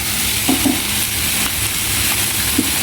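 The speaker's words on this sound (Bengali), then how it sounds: "একটু পরিমাণ মতো সর্ষে দিয়ে দিলাম এবার হচ্ছে এইগুলো ভালোভাবে কষিয়ে নিব" Pangas fish stir-fried in a pan with mustard paste gives a steady, close sizzle, with a few soft scraping stirs and no talking.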